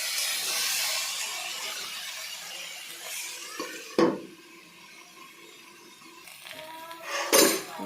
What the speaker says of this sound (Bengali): তারপর আমি এখন পুরো ভাজবো সাজনাগুলা।